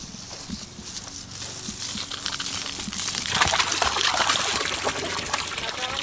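A steady spray of water hisses and splashes onto ponies and horses in hot weather, starting soft and growing louder and fuller partway through.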